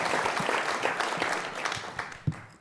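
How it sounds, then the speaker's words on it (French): A studio audience applauds with dense, steady clapping that holds for a few seconds before thinning out and fading, with a couple of louder claps near the end. "on peut l'applaudir"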